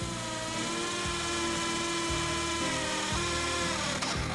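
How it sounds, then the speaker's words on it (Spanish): A power drill bores holes through a wall to carry pipes to a heating radiator, a loud steady grinding whine held without a break and cycling slightly about once a second, with no voices. "se realizan las perforaciones que permitirán el paso de los tubos hacia el radiador"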